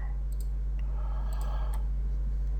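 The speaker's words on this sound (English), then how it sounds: "Click, click." A handful of faint, sharp computer mouse clicks, irregularly spaced, while working in Marvelous Designer 3D software over a steady low electrical hum.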